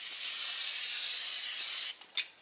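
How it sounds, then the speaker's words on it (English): Brake cleaner is sprayed onto a brake part during pad and rotor work on a 2006 Buick Lucerne, a steady, close aerosol hiss lasting nearly two seconds that cuts off into a few short spurts. "we'll spray a little bit of brake cleaner on it again"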